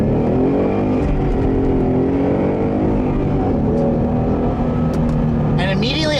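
A 2015 Ford Mustang GT V8 in Sport Plus mode accelerates, its engine note rising steadily as revs climb through the run, loud and close from inside the car, with someone talking over it.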